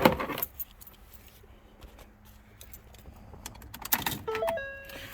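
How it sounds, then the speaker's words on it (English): Car keys for a 2012 Ford Focus jingle and clink close by in a short burst, then quieter rattling and small metallic handling noises follow. "Gotta find the keys."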